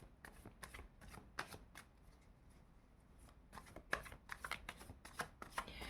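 Tarot cards are shuffled by hand up close, a rapid series of crisp riffling and slapping flutters, quiet and alone.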